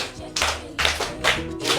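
An audience claps for a Yoruba storyteller in three loud bursts of applause, each swelling then easing, close and filling the space.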